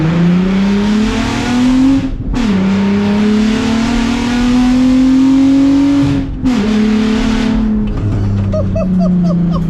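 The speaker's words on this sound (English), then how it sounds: "This engine is awesome. It's so fast." A van fitted with a Golf R engine revs hard and accelerates through the gears, loud and close from inside, with two brief lifts between rising pulls and a gravelly settle at the end.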